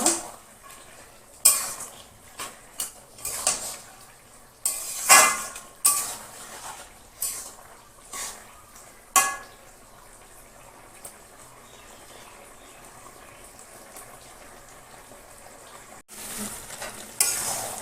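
A fish head and potato curry with Malabar spinach stirred in a pot, a run of sharp spoon knocks and scrapes against the metal over a low simmer for about nine seconds, then quieter bubbling and a final few clinks.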